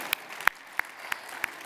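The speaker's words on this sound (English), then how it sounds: "I actually wanted them to clap for you because you are the people that send that money to keep the nation going." About five sharp, evenly spaced claps ring out at a slow, deliberate rhythm, faint against quiet room tone, as an audience at a diaspora conference applauds.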